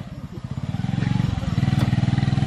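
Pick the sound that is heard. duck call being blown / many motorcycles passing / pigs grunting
many motorcycles passing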